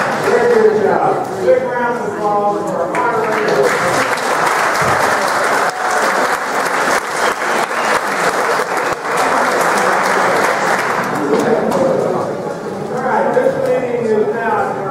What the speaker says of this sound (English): Big round of applause for our moderator.